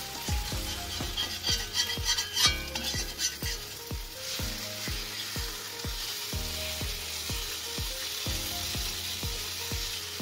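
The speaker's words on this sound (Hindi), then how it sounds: "मसालों को मैं साइड करूँगी और अंडे को अच्छे से थोड़ा रोस्ट करूँगी" Eggs roasting in a pan beside pushed-aside masala for egg masala fry, a steady close sizzle with repeated spatula stirs and scrapes knocking through it at a fairly regular rhythm, no talk.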